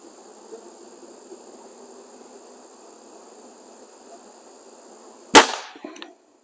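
A BSA Airsporter Stutzen RB2 air rifle fires a single sharp, loud shot near the end, with a short clattering tail, after a stretch of quiet steady background hum and high whine.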